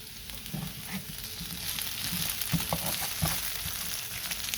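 Potatoes frying in a pan with a continuous crackling sizzle, punctuated by repeated scrapes and soft knocks as they are stirred, close and fairly loud.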